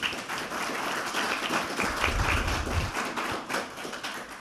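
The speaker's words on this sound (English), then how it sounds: "I'd like to ask you to give them a round of applause." A conference audience claps for visiting presenters from the UK during closing remarks, producing a thick, continuous patter of many hands that stays fairly loud and even, with a brief low rumble midway.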